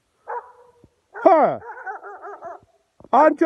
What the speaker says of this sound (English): How can you bark me?